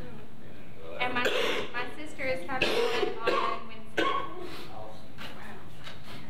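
A person coughs and clears their throat several times at close range in a church service setting, with a few bursts spread over several seconds.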